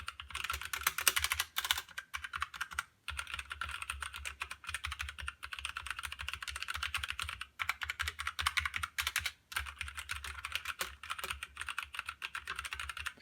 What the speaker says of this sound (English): now I'm going to give a quick little typing demonstration